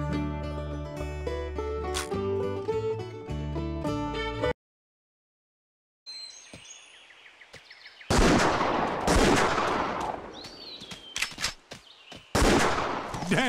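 Hunting rifle gunshots in the Wii game Buck Fever come as a few sharp blasts amid game sounds, following a burst of music and a short silence.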